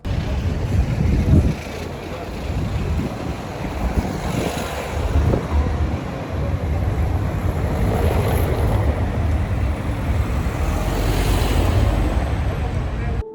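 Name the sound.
wind blowing in Lisbon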